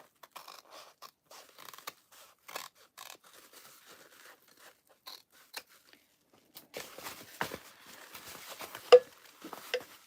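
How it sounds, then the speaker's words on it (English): Scissors snip through clear TPU vinyl while a backpack is being sewn, giving a series of short, crisp cuts and scrapes that come in quick bursts, close up and fairly quiet, with no talking. "We're gonna cut this out."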